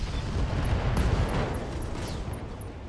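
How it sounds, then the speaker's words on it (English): Ammunition detonating in the mech combat game RogueTech, heard as a dense, rumbling explosive roar with crackling bursts that stays loud throughout, no voices over it. "Artemis ammo explosion"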